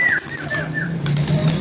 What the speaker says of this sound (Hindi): ये उड़ाया दोस्तों कबूतरों को